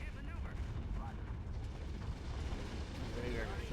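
Starship weapons fire and explosions rumble steadily in a Star Wars Empire at War space battle at Ylesia, a dense, continuous roar of booms and blasts with a voice speaking over it.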